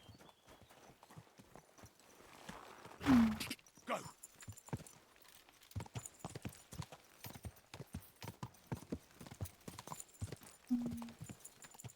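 Horse hooves clip-clopping in a quick trotting rhythm, close and clear, with a brief whinny and a short spoken word early on.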